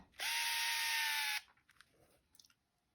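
A Ricoh Mini Zoom film camera's lens zoom motor runs in one steady, close whirring burst of just over a second, followed by a few faint clicks and small mechanical ticks.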